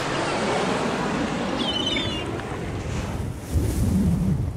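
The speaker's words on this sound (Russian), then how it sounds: "Вот это волна!" Cartoon ocean waves roll and surge in a steady, loud wash of surf and wind that swells slightly near the end, with no talk over it.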